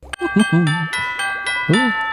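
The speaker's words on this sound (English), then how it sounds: "he also has a doorbell for his back door for some reason, and it plays the Barney theme song" A back-door doorbell chimes the Barney theme song in a short, bright electronic melody of several ringing notes, with a voice talking over parts of it.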